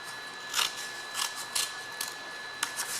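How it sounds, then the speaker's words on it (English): Scissors make several crisp snips through folded paper while paper flower pieces are cut, the short close cuts falling at uneven intervals over a faint background hiss. "going to actually cut this line right here"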